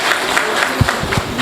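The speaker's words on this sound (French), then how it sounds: "Il faut l'applaudir." Light applause from a crowd at a rally of Guinean nationals in Senegal, scattered claps building briefly in a short burst.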